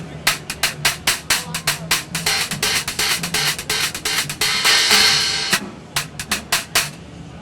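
Short, trashy hits on a Zildjian K Custom Special Dry FX top cymbal with a hole pattern, in a steady rhythm, each cutting off quickly, with a brief washy swell in the middle; close and loud.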